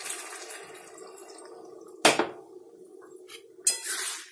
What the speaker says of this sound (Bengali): এখন জল একটু গরম করে এক কাপ জল দেবো